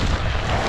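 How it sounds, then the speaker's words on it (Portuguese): Strong wind, estimated at around 60 km/h, blasts across a soybean planting field, buffeting the microphone with a loud, dense, continuous rush of noise. "Vento deve dar uns 60 por hora essa porra."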